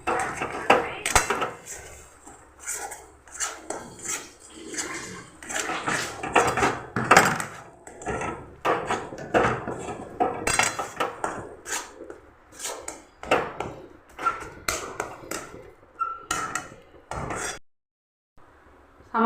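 A metal spoon scrapes and knocks around a metal pan while masala is stirred and fried, producing a busy run of close clinks, clanks and scrapes with brief pauses and a short silence near the end.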